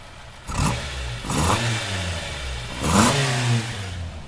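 930cc Hillman Imp engine on Webers revving through its exhaust, three sharp blips rising and falling over a rough idle, close and loud with no talk.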